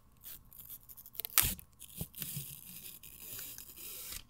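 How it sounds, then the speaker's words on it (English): Protective paper being peeled off a new Astro gaming headset, a quiet crinkly tearing with a sharp rip near the middle and softer scratchy rustles around it, close and alone without talk. "I do want to take off this paper"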